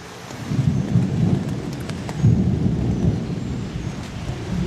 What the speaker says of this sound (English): Can you hear that thunder rumbling?